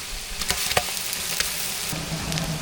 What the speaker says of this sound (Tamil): எல்லாம் நல்லா வதக்கிட்டு அது கூட இஞ்சி பூண்டு பேஸ்ட்டு சேர்த்துக்கலாம்